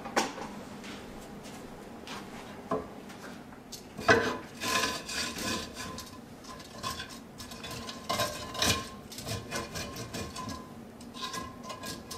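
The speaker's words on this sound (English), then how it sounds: "So I'll just get that to heat up and then I'll scrape the pan when it's hot." Pan scraped with a utensil while chicken jus heats, irregular rubbing and scraping strokes with occasional clinks, close and moderately loud over a faint background hiss.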